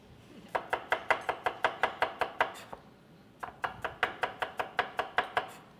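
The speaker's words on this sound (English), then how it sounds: "One chili, just to slice it." A knife slices a chili on a cutting board: two quick runs of about a dozen crisp, evenly spaced cuts each, split by a short pause, close and clear.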